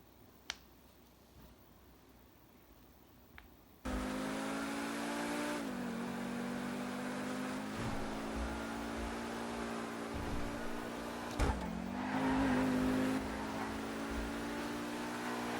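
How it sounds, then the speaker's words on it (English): Naturally aspirated 750-horsepower V10 of the Pegassi Zorrusso supercar in GTA 5 on a racetrack, a few faint clicks and then a loud harmonic engine drone that holds steady, dips briefly between gears and climbs again, with no talking. "That is the sound of a naturally aspirated V10 making 750 horsepower."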